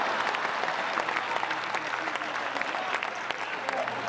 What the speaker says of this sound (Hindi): क्या तालियां कम बजा रहे हो यार?